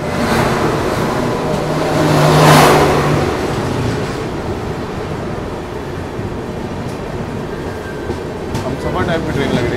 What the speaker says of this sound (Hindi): सामने से कोई ना कोई राजधानी होगी जो निकल रही है